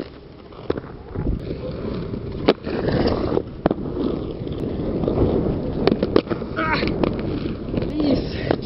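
Street inline skates rolling and rattling over a mini ramp, with wheel rumble, scrapes and sharp clacks as they hit the coping, amid wind noise and a voice speaking briefly.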